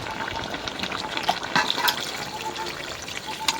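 Water pours into a cooking pot holding chicken and potatoes, a continuous close splashing gush lasting a few seconds.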